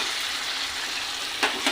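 Mutton sizzles and fries in a pan, a steady close crackle with a couple of brief louder spatters near the end; no talking.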